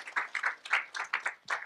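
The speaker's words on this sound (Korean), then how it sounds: "우리 미디어 사역국 우리 박수로 한번 격려해 주시면 감사하겠습니다." A church congregation claps to encourage the media ministry team, a short, sparse patter of hands in an irregular rhythm, fairly quiet and brief, with no talk over it.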